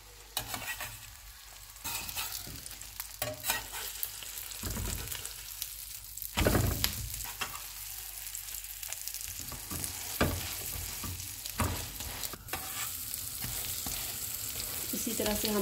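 Kebabs for street-style bun kebab fry in a pan in a steady sizzling hiss, broken by irregular clatters and scrapes of a utensil, with a few louder knocks along the way and no speech.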